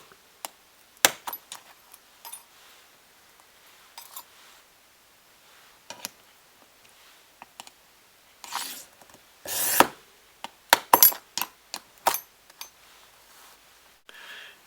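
Strips of 2mm black iridescent glass are cut, giving sharp, close scoring clicks and snaps scattered irregularly through quiet, with a denser cluster of cracks and taps near the end.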